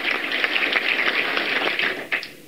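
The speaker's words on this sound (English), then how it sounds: "he deserves a huge round of applause" An audience at a Senate Democratic conference claps steadily in a dense burst of applause that fills the room, fading slightly before a final flurry of claps, with no speech.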